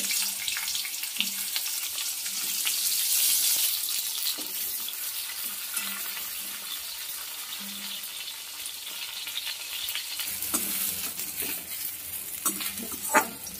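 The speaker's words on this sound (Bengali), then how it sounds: "এবার বেগুনটা ভেজে নেব।" Eggplant pieces fry in hot oil in a pan, giving a continuous close hiss and sizzle with occasional clatter from stirring and turning, and no voices.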